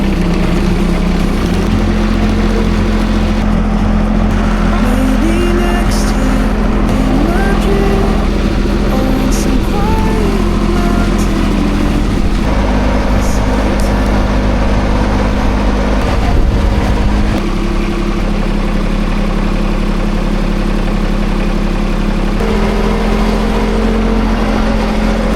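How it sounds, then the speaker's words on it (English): A tractor on a homestead driven nice and slow: a steady low engine rumble with a constant mid hum, close and loud throughout, plus occasional clanks and shifts in pitch. "I think you want to go for a ride with the tractor?"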